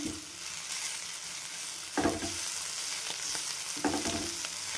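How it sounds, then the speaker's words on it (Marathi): Steady sizzling of curry leaves and coriander frying in hot oil, with a couple of louder bursts as the pan is stirred; no voices. "मी इथे थोडा कढीपत्ता घालणार आहे आणि कोथिंबीर, ते पण छान परतून घ्यायचं"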